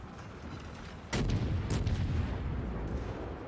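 Naval gunfire in World of Warships: a sudden heavy boom at about one second opens a sustained rumbling roar, with a second sharp blast shortly after and lingering low rumble to the end.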